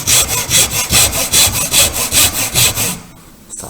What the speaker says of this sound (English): we'll also make one relief cut in the middle